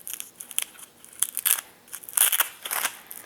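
A compact ultralight backpacking stool being pulled out and unfolded, giving a run of crisp crackling, crinkling and clicking bursts close up, with no talk.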